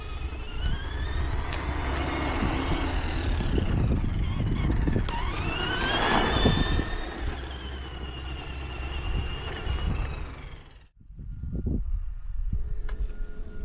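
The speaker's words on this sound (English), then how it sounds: "just driving my Tamiya Lunchbox around back and forth" A Tamiya Lunchbox RC truck with upgrades whines and buzzes steadily as it drives back and forth on asphalt, its electric motor rising and falling in pitch, then briefly cutting out before resuming.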